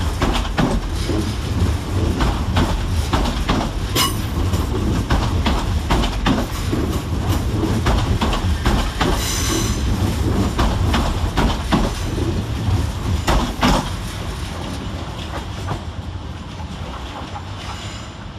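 C2C class 357 electric trains at London Fenchurch Street station, with a steady, loud rumble of rolling stock and station noise throughout, scattered clicks and hisses, and no clear talk.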